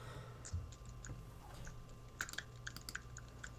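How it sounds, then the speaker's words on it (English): Faint keyboard typing, a quick scatter of soft key clicks over a low steady hum, quiet and close. "I hear some typing."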